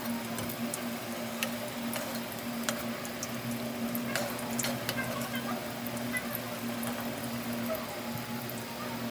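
Pulipitha frying in hot oil in an old cracked kadai, a steady dense sizzle with scattered pops and crackles running continuously throughout, fairly close and without any talk.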